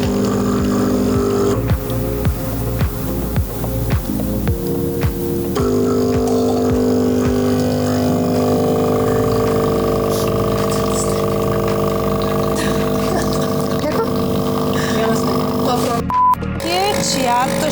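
Several capsule coffee machines brew side by side, their pumps giving a steady loud mechanical drone with buzzing tones and faint clicks throughout, running alone without talk.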